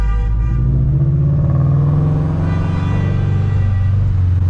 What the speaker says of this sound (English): People are really honking right now